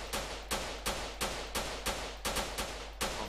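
A gun in Grand Theft Auto San Andreas fires about nine loud, sharp shots at a steady rhythm of roughly three per second, each with a short decaying tail, with no talking.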